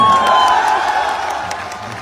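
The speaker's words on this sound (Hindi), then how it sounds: "ऐसे ताली होनी चाहिए अपने देश के लिए" A live audience at a Vijay Rath event in Lucknow claps and cheers together, a dense steady wash of applause that fades gradually over two seconds.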